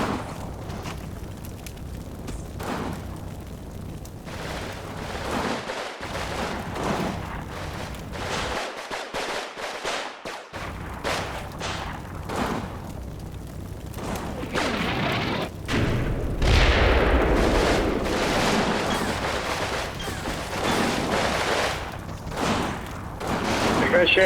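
Rolling gunfire and booming explosions from a Combat Mission: Stalingrad battle between Russian and German units at a station goods warehouse, dense and continuous with louder bursts near the end, under speech.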